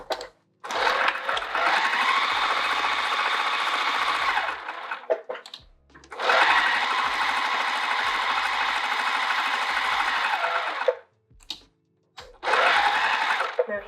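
A sewing machine stitches the edges of a tote bag pocket in three long, steady whirring runs, each separated by brief pauses, close and clear.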